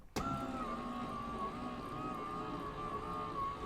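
An electric die-cutting machine feeds foamiran foam through its rollers, giving a steady motor whine with a tonal hum that starts abruptly and runs continuously, fairly close and moderately loud.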